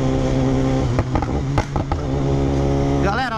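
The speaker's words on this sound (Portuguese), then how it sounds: "Tá estourando assim, porque com o escapamento o Dragão já colocou e levou pra remapear esse módulo aqui pra ela fazer isso" A customized 2019 BMW S1000 motorcycle with an aftermarket exhaust and remapped module downshifts, its loud, close engine broken by a run of sharp pops and crackles from the exhaust before the revs climb again.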